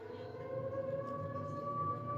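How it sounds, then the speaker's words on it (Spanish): An air raid siren sounds at a bomb shelter in Almería, a steady wailing tone with a rich stack of harmonics that holds at an even, moderate loudness throughout, with no talking. "El sonido de las sirenas les invita a bajar."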